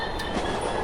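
A train runs steadily aboard Express No. 6 in a horror video game, a continuous rumbling rail noise with faint wheel clatter, heard close and alone.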